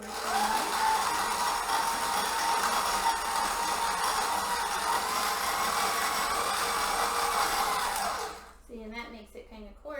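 An electric grain mill runs at full power grinding grain into coarse flour, a loud steady motor whine with rough grinding texture for about eight seconds before cutting off abruptly, followed by a brief pause and a few faint sounds.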